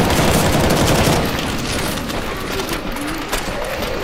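Dense rapid gunfire in CS:GO zombie escape mode, players shooting at zombies; loud continuous bursts overlapping into a fusillade that thins slightly after the first second, with no talk.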